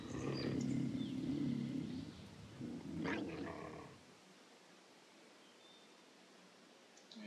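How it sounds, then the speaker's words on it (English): A mountain lion in Open Country roars and snarls in two rough bursts, the second shorter, before fading into quiet outdoor ambience with faint rustling. "It's a mountain lion or something."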